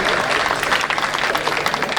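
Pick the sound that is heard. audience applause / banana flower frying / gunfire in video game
audience applause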